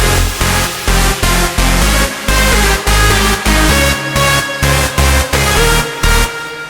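Big room EDM track with its lead synth removed, pounding four-on-the-floor kicks and heavy bass under pulsing chords, loud and dense, with brief gaps in the beat.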